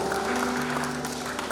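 A wedding congregation in a church applauds in dense, steady clapping, with a sustained organ or keyboard chord underneath.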